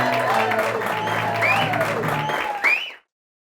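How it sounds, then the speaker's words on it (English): Audience applause at the close of a joke-off segment on a comedy talk show: a loud, dense wash of clapping with faint voices mixed in runs for about three seconds, then cuts off abruptly into silence. "A big round of applause for our joke-offs."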